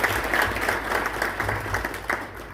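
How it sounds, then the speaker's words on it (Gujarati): An audience claps steadily in an auditorium hall at a bank's World Environment Day event. The dense, sustained applause is fairly loud and close, with a faint voice or two underneath. "એમને જોરદાર તાળીથી"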